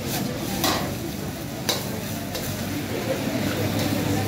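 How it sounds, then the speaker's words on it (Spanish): Lentils sautéed in a hot frying pan, with a dense sizzling hiss and a few sharp scraping clicks from a spatula or pan being moved. "Agarre un poco de lentejitas en el sartén"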